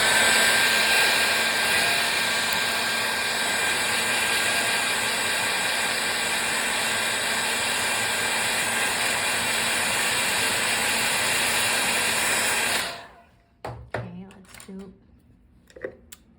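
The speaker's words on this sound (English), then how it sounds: "also use a hair dryer" A steady, loud broadband blowing roar holds for about thirteen seconds, then cuts off abruptly, leaving a few faint clicks and handling sounds.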